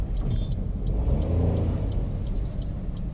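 A car making a U-turn through heavy evening traffic, with a steady low engine rumble and road noise filling the cabin, close and continuous, with no talking.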